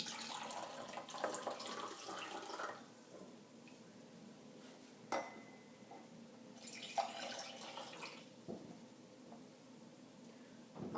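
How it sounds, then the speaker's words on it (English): Water is poured through a funnel into glass jars, coming as two or three splashing, trickling pours separated by quiet gaps, with occasional knocks and clinks of glass, close and soft. "going to put some water in all of these glass jars"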